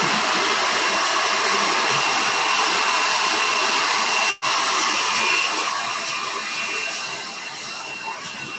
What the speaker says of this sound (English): I'm going to use the hairdryer for a second because I will not be able to hear.